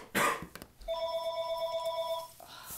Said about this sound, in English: Phone. Silence that.